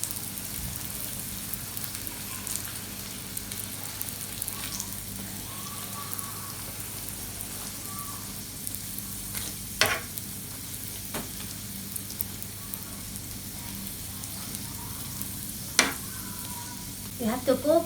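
Lachha paratha cooking in a pan, a continuous soft sizzle with occasional sharp ticks and a few light clatters toward the end, no one talking.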